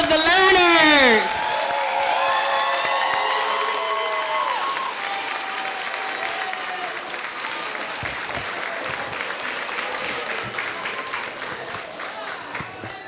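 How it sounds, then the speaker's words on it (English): An audience at an intermediate school event applauds the learners, with a sustained wash of clapping following a loud whoop and whistle at the start, fading gradually over about thirteen seconds. "please clap it up for all of the learners"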